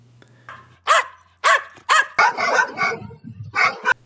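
A dog barks loudly and close by in a series of sharp, separate barks, with brief whimpering yips between them and quiet pauses around each bark.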